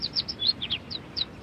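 A small bird chirps in a run of short, high, quick tweets, about ten in under two seconds, clear and close over a faint low background.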